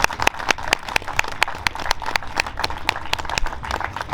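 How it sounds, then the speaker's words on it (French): Audience at the launch of a snail festival in Chevigny-Saint-Sauveur clapping in a steady, lively burst of many hands, sharp claps close and continuous with no talk. "on peut les applaudir"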